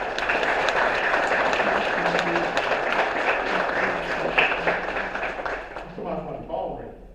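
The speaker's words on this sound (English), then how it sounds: "Give them a round of applause." Audience at a city address clapping for a new police chief and assistant chief, a steady round of applause that thins toward the end while voices murmur underneath.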